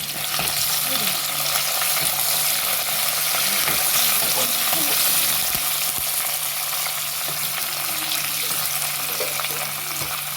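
Tempering for a chicken gravy crackles and spatters in a hot pan, a dense, loud, continuous sizzle with sputtering pops close up.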